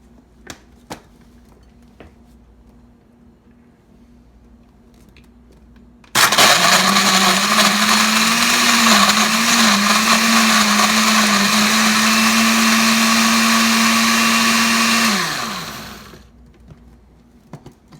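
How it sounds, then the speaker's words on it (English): A blender roars to life after a quiet start, whirring loudly and steadily through ice and watermelon for about nine seconds before winding down. "We're going to blend it."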